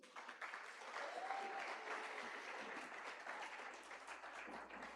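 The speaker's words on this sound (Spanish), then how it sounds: "Dense un aplauso." Church congregation breaking into sustained applause, a dense wash of many hands clapping at moderate distance, with faint voices and cheers mixed in.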